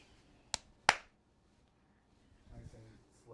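Two sharp hand claps in quick succession from a child learning to oil paint, near and crisp in an otherwise quiet room, followed by faint talking.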